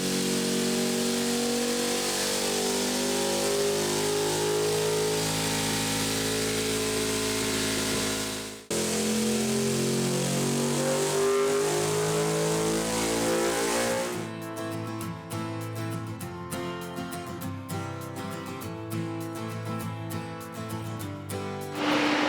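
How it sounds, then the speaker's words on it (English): A Ducati V2 Panigale motorcycle roars loudly on a dyno during a power run, its engine note held high and steady, a brief dip partway, then a harsher, choppier stretch of sound toward the end, with no talking. "Geez, that bike is loud."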